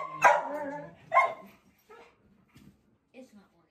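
A dog barks and whimpers inside a car on a road trip, giving a couple of sharp close barks followed by softer scattered whines and yips, with people talking nearby.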